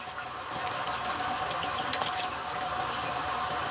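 Steady rushing water pouring into a container, a continuous hiss with a few splashy accents, no voices.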